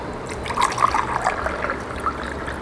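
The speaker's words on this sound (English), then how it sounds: "we have the experience of pouring water into a glass" Water poured from one glass into an empty glass, a soft trickling and gurgling stream with small bubbly splashes, close and moderately loud, continuing steadily.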